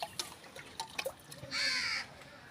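A crow caws clearly several times, with short calls scattered through the first part and one longer, louder caw near the end, heard nearby over faint background noise.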